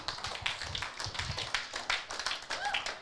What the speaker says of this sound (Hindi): You can literally clap, guys.